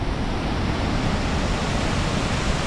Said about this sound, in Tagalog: Yan ang Pagsanhan Falls. Maraming tubig.